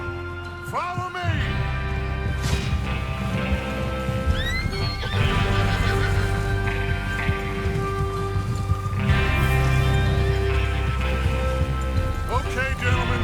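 Several horses gallop in Red Dead Redemption 2 with steady clip-clop hoofbeats while sharp neighs and whinnies rise repeatedly over the rumbling movement.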